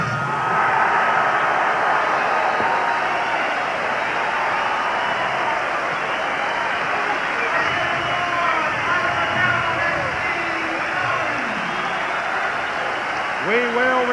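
A boxing crowd in Boston, on its feet in the 12th and final round, cheers and applauds as a steady roaring wash, with a commentator talking over it throughout.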